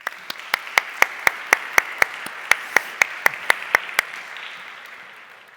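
Audience applause after a presentation on becoming a high performer: a steady wash of hand clapping with distinct sharp claps standing out at a regular rhythm, then slowly fading toward the end.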